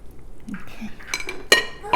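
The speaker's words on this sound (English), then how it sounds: "So I'll try to stir this that you don't get any lumps." A spoon stirs Jamaican cornmeal porridge in a pot, giving soft scraping with a few sharp metallic clinks against the pot's side near the end, close and fairly quiet.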